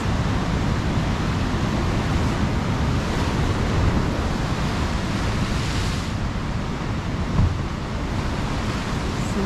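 Pacific ocean waves splash against rocks below coastal bluffs at Montana de Oro, a loud continuous roar of surf and wind noise filling the whole stretch with no voices.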